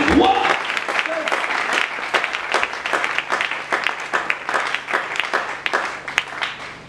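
A church congregation applauding, dense rhythmic clapping sustained throughout, loud and close, with voices mixed in beneath the clapping.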